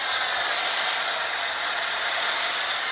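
A pressure washer sprays at high pressure while rinsing a BMW E92 M3, a steady, loud hiss of water jetting without pause.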